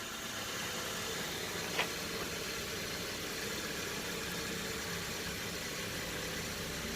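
A 2008-2014 Dodge Avenger engine idles steadily after a remote start, a constant low rumble with broadband noise, heard nearby, with a brief click partway through.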